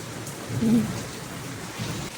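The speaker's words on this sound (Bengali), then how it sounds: "এই দেখো মেঘ ডাকছে আবার" Thunder rumbles during rain, a low rolling boom rising briefly over a steady patter of rainfall, with a faint voice underneath.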